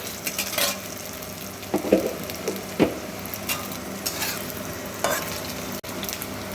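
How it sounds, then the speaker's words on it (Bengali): Home-made momo stir-fried in a pan over a medium-low gas flame produce a crackling sizzle, with intermittent scraping and clinking from stirring. "হালকা করে নাড়াচাড়া করে একটুখানি ফ্রাই করে নেব"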